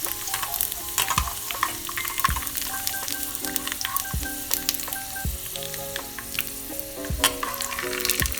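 Pork skin cracklings, already cooked once, fry in hot oil with a steady close sizzle broken by sharp pops and crackles scattered throughout, no voices present.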